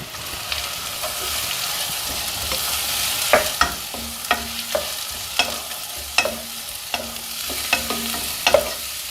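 Steady sizzling of chopped onions frying in oil in a pan, with repeated clinks and scrapes of stirring throughout, close by.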